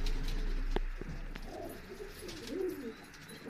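Pigeons in a breeding setup coo softly and repeatedly, low, throaty calls rising and falling against a quiet background with a few faint clicks.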